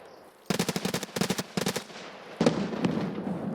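PMCs and scavs trade distant gunfire in Escape from Tarkov: three quick bursts of automatic fire with short pauses between them, then a few single, heavier shots that echo into a lingering rumble.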